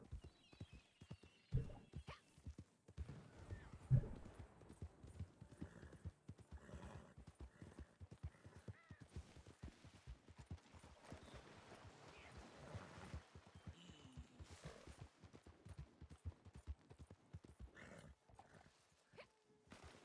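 Horse hooves clip-clopping in the Red Dead Online video game, a fast rhythmic string of close hoofbeats continuing throughout at moderate level, with faint snorts and scattered background noise.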